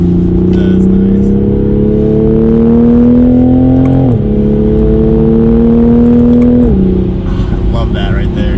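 Toyota A90 Supra engine revving hard under acceleration on a track, a loud steady drone rising in pitch, with two quick gear shifts dropping the tone before it climbs again.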